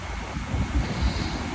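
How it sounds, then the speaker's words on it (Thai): Cool wind blowing at the seaside along the Chanthaburi coast, a steady rushing buffet across the microphone with deep gusty rumbles and no voices. "ลมเย็นสบาย"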